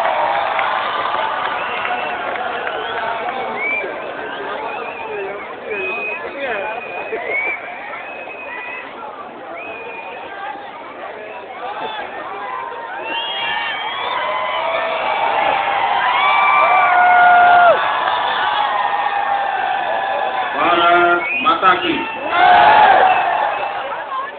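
A large crowd at a public event for Chief Minister Narendra Modi in Shahibaug, Ahmedabad cheers, whoops and claps. The roar swells louder toward the end and sounds somewhat muffled and distant.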